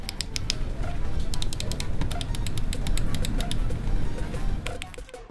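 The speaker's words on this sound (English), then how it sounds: "The mechanical switches in this mouse also has a pleasant clicking sound." A Corsair gaming mouse with mechanical switches clicks in rapid, crisp bursts of taps, close up and fairly loud, with no talking.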